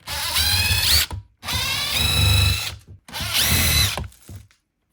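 A power drill or driver backs screws out of a Duracell lantern in three loud, close bursts of whirring and ratcheting, each about a second long with short pauses between them.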